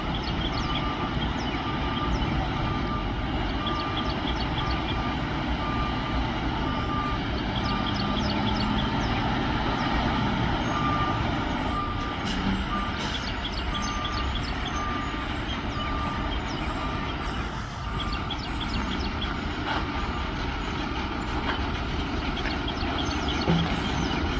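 A dump truck backs up to an asphalt paving machine during street repaving, its reversing alarm beeping steadily and repeatedly over a loud, constant rumble of engines and heavy road equipment.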